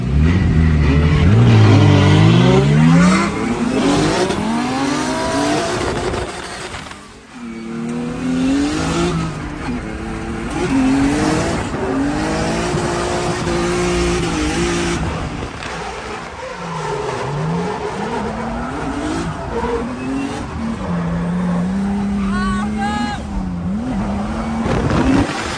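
A BMW drift car on a track, its engine revving and surging loud and close, then stumbling and dropping off repeatedly, with tire squeal mixed in and a voice speaking over parts of it.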